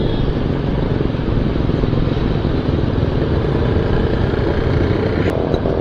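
Steady, loud Jawa and Yezdi motorcycle engines rumble continuously, a dense droning roar of several bikes riding together in a group ride event at close range.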